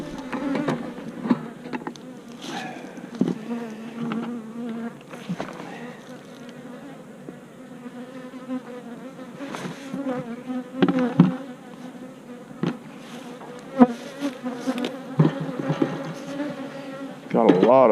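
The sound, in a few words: honey bees buzzing in colony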